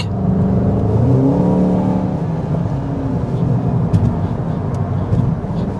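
A 2025 Volkswagen Golf GTI drives hard around a race track, its engine droning loudly and steadily with rising and falling revs, heard from close by.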